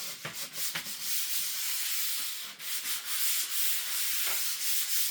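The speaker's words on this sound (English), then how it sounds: "I indeed have to sand the table again" Sandpaper scrapes over a wooden table in steady back-and-forth strokes, close and fairly loud, a continuous gritty rubbing.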